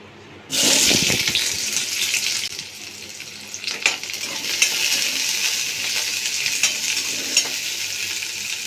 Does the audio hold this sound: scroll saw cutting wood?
no